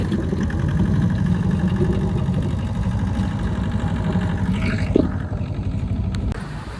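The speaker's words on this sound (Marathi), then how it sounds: "झाली आपली मोटर चालू" Motor vehicle engine idling steadily after being started, a close, even low rumble that continues throughout with a brief knock near the end.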